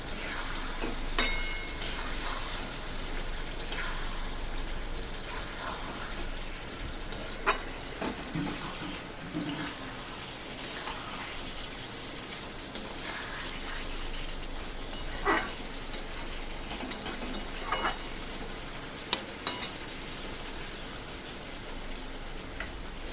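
Fried pointed gourd pieces are stirred in a pan for a vegetarian doi potol curry: a low, steady sizzle runs throughout, broken by scattered scraping and clinking spoon strokes.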